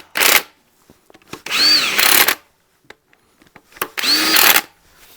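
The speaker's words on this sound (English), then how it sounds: "We can use the 1/2" ratchet, because all I do with these normally is zap them up" Short bursts of a half-inch impact ratchet spinning bolts up during work on a 1968 Regal, two loud whirring runs with lighter clicks and taps between them, close by and alone.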